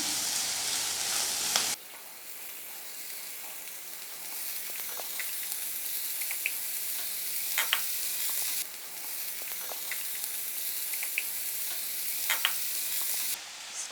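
Onions, green chillies, ginger and garlic sauté in a pan for a fish puttu scramble, giving a steady close sizzle broken by occasional stirring clicks, with no talking.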